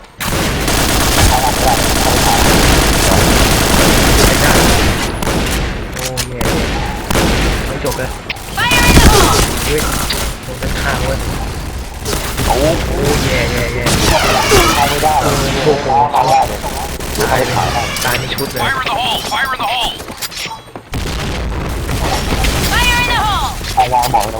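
Rapid gunfire in the shooter Point Blank rattles in loud, repeated bursts with mechanical clatter and booms throughout, under someone talking excitedly.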